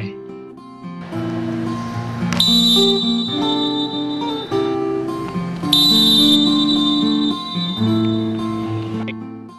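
Two long, shrill referee whistle blasts at a basketball game sound one after another over steady background music.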